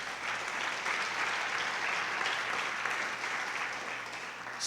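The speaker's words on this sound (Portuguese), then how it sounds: "Dá um aplauso ao Senhor aí" A congregation at a Sunday celebration service in church applauds the Lord: sustained, dense clapping from a large crowd, even and full throughout, with a faint low hum beneath.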